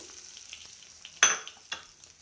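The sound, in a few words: hot tempering (oggarane) poured into chutney, sizzling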